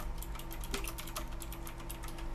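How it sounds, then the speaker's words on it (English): Typing on a very mechanical keyboard: quick, crisp key clicks in an irregular stream over a steady background hum. "You have a very mechanical keyboard."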